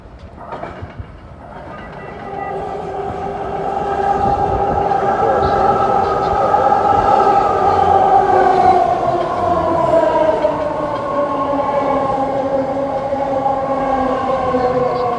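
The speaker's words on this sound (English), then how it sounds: "San Francisco, Dublin, Pleasanton train came in platform number 1." A new ten-car, three-door BART Blue Line train pulls into a station platform with a swelling rumble and a sustained tonal whine that slowly drops in pitch as it slows, loud and close.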